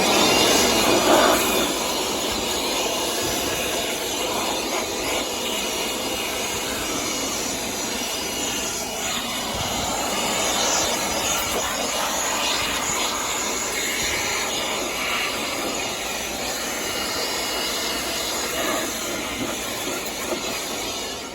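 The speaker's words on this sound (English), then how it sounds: "let me get the blower and clean out all the debris in here" A blower clears debris out of an outdoor AC unit, a loud steady rushing roar of air with scattered rattling, sustained throughout.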